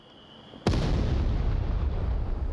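A frag grenade goes off in the VR shooter Onward during a competitive match, a single sudden loud blast followed by a long rumbling decay, with no talk over it.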